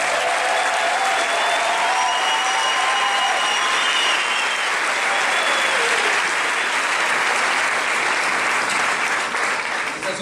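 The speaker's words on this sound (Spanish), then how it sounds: "la corporación que nos respalda, para la cual pido el mejor de los aplausos" Sustained, dense audience applause fills a business meeting hall for the Amway corporation, steady and loud throughout with faint tonal whistles or cheers riding on top.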